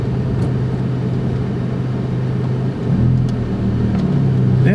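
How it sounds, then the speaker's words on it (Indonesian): A 2000 Audi TT MK1 Type 8N on a lowering kit rolling over a speed bump: a steady low engine drone inside the cabin, with a dip and a shift in engine note partway through as the car crosses the bump. "Sekarang di depan kita ada polisi tidur dan gue mau ngetes suspensi mobil ini."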